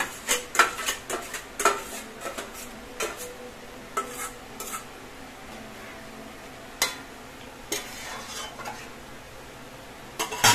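Eggs going slowly into a soybean curry in a pan bring repeated clinks and scrapes of a utensil against metal over a soft sizzle, in irregular bursts.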